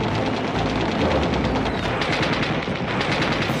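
A Shpagin PPSh submachine gun fires long, dense bursts of rapid shots that continue without a break, loud and harsh throughout.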